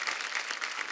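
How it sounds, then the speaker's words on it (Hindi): Audience applause for two film stars at a Bollywood stage event, a steady dense wash of clapping filling the whole moment with no voices over it. "एक बार जोरदार तालियां दिलीप साहब और धर्म पाजी के लिए।"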